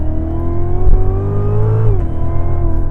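A Cadillac CTS-V's 640hp engine revs hard doing donuts, with a rising then falling pitch, loud and close, the note sweeping as it spins continuously.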